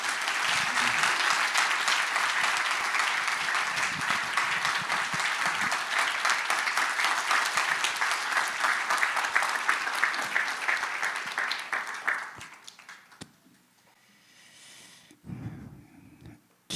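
Church congregation applauding to welcome a visiting pastor at a revival service, a dense, sustained wash of many hands clapping that runs steadily for about twelve seconds, then fades out, leaving a faint quiet tail.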